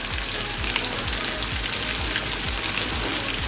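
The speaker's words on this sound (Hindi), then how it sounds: "डोनट हमारे बहुत अच्छे से गोल्डन फ्राई हो चुके हैं" Mashed potato donuts deep-frying in hot oil over a medium flame, with a steady dense sizzle and regular faint bubbling pops, close and alone.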